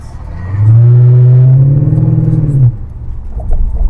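A Mercedes E500 W211 engine with cylinder misfires and a broken exhaust revs hard and close, holding a loud, rough, uneven drone for about two seconds before dropping back to idle.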